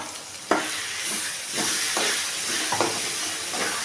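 Ground gooseberry paste frying in a pan for rice, a continuous close hiss and sizzle broken by several scraping stirs of a spoon, with no talk.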